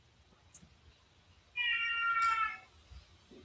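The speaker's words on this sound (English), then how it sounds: "It's kitty outside the door meowing." A house cat outside a door gives a single drawn-out meow of about a second, clear but moderately quiet against a faint background hum, with no talking.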